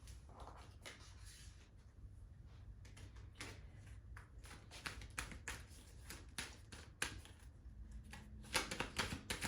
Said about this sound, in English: Pulling from multiple decks, so bear with me as I shuffle.